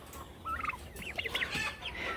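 Turkey gobbling among mixed poultry of ducks, geese and chickens, a rapid warbling gobble call repeated a few times at moderate distance over a steady farmyard background.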